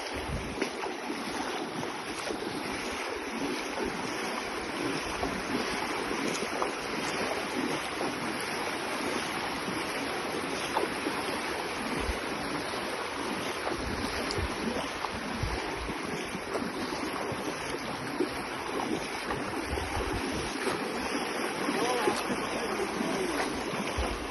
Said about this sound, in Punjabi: ਪਾਣੀ ਤੁਸੀਂ ਸਪੀਡ ਆਪ ਹੀ ਵੇਖ ਲਓ